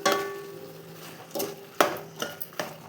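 Soya chunks (meal maker) with spices sautéed in a pan for biryani: a spatula scrapes and clanks against the metal in several distinct knocks over a soft background sizzle, close and moderately loud.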